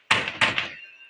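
Two sharp knocks on a door, close and loud, followed by a brief decaying ring; no talk over them.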